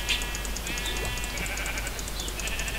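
Sheep in the video game Minecraft bleat repeatedly in short wavering calls against a busy, noisy background.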